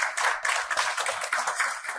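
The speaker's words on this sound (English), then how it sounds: "So I will request a big applause for Mike and his team." A short burst of audience clapping at a healthcare technology conference in honor of Mike and his team, brisk and fairly close.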